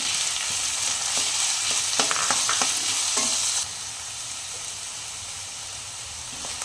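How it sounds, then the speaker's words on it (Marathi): Cumin seeds and finely chopped onion sauté in hot oil for an aloo masala, sizzling loudly and steadily up close, broken by a few scraping stirs before the frying settles a little quieter. "त्याच्यामध्ये दोन चमचे जिरं आणि जो आपण बारीक चिरलेला कांदा होता तो परतून घ्यायचा आहे"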